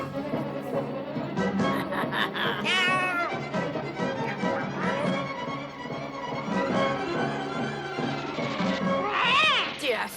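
A cartoon cat in the Smurfs meows and yowls repeatedly over busy background sounds and music, with voices talking throughout; the cries rise and fall, clearly audible near the start and again near the end.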